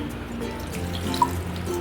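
Water runs steadily from a tap into a pressure cooker for chicken curry, with a soft continuous splashing and one small clink partway through.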